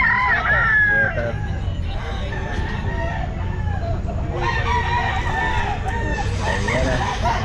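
Roosters crow repeatedly amid a crowded pet market in Grotto, overlapping calls rising over a constant din of chatter and clucking.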